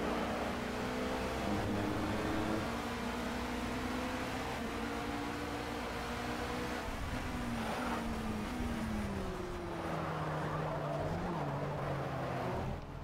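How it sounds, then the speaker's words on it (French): Alpine sports prototype race car in an endurance round at Barcelona in Project CARS: a constant high-pitched engine howl with gliding pitch as it shifts and changes speed, steady and unbroken. "On vous laisse profiter un petit peu du son hein, de ces super sports prototypes dans cette manche d'endurance ici donc à Barcelone."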